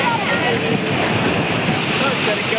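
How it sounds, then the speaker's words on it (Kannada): Water rushes steadily and loudly at an outdoor spot where people play in the water, a dense continuous roar with no breaks. "ಎಷ್ಟೊಂದು ನೀರೈತೆ."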